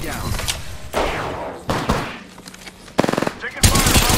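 Video game gunfire from a Havoc energy rifle and an Eva-8 shotgun: loud, close booming blasts in separate bursts, then a rapid string of shots near the end.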